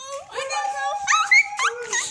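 A dog whimpers and whines in high, wavering cries at close range, with a few short yelping bursts toward the end and voices nearby.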